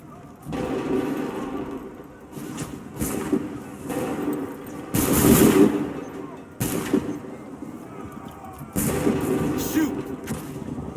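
Gunfire and artillery blasts from the video game Assassin's Creed III come in several loud, booming bursts spread over the span, with rumbling battle noise between them.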